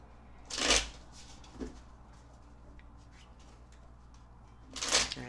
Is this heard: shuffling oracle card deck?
yes